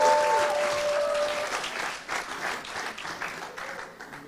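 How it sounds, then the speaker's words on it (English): An audience at a startup demo day applauding a team coming on stage, bright clapping that starts loud and then slowly fades, with a brief tonal squeal at the start and faint voices beneath. "Applause, please."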